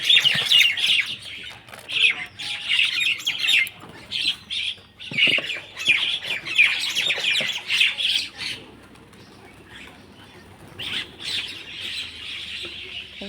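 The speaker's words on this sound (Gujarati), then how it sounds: "એમાં કબૂતર આવે." Pigeons gathering at a house give repeated close squawks and chirps in irregular bursts, with brief quieter gaps between the calls.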